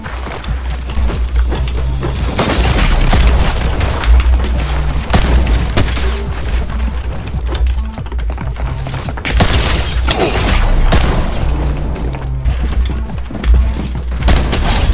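Opponent gunfire in a Fortnite-style battle royale cash cup match, dense loud shots and impacts layered over continuous game noise and a steady low hum, sustained for the whole stretch without talking.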